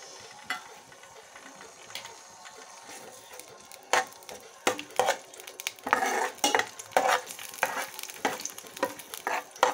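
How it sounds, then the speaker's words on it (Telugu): Green chillies frying in a hot pan, a low sizzle that grows busier with repeated sharp crackles and stirring scrapes toward the end, close and without talk. "పచ్చిమిర్చి బాగా వేసిందండి"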